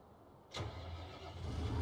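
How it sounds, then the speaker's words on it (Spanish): A tractor engine in Farming Simulator 19 cranks and catches with a sharp burst, then settles into a steady low idle that swells slightly toward the end. "Venite ya con ese tractor si querés."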